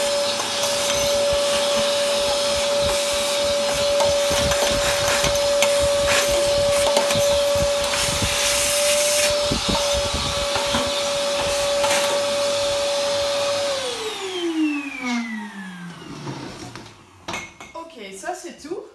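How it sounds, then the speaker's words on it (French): A vacuum cleaner sucks cold ash out of a pellet stove, a loud steady motor whine with scraping, rattling and knocking of the nozzle against metal, then the motor winds down near the end as clattering continues. "Et on va aspirer ça."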